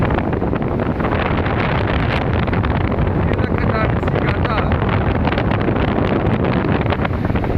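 Large ocean waves at Sigata beach in Nias, with strong wind: a steady, loud roar of surf mixed with buffeting wind across the microphone, and a person speaking over it.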